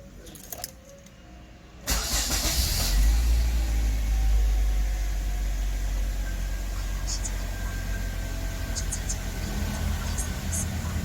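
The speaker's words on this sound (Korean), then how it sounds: "한번 시동을 한번 걸어보겠습니다" A high-mileage car with a suspected fault is started: a brief cranking burst, then the engine catches and settles into a steady low idle rumble, with faint key jingles just before.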